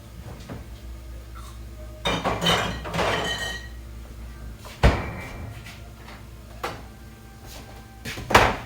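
Food being moved back into its container in a kitchen: clinks, scrapes and a sharp knock or two as containers and utensils are handled, irregular and fairly close, with no talking.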